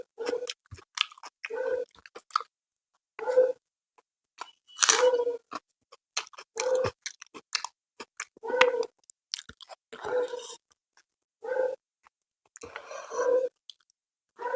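Close, soft chewing and mouth clicks from someone eating plain bhuna khichuri with chicken kosha, mango chutney and salad, coming in short bursts separated by quiet pauses, with no talking.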